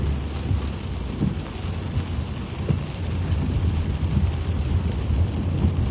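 Steady rain falls and patters in a dense, continuous hiss with low rumbling wind noise, loud and unbroken throughout.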